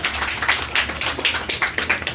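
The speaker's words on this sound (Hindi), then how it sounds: "जोरदार तालियां स्वागत कीजिए" An audience claps to welcome a student at a Class 10 award ceremony, with rhythmic, moderately loud clapping, quick regular hand claps over a low background hum, and no talk.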